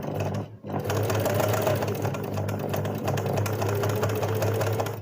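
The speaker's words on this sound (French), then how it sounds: "Il faut que tu maîtrises ton pied pour bien gérer la vitesse de ta machine." A sewing machine stitches embroidered lines under foot-pedal speed control, a loud, steady mechanical whir that halts briefly near the start and then runs on evenly, with no talking.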